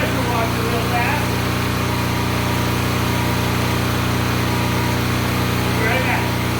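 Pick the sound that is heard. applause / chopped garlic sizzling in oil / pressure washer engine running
pressure washer engine running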